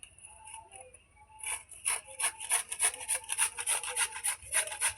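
A carrot rubbed against a kitchen grater in quick, rhythmic scraping strokes, close and fairly loud, starting after a quieter opening moment.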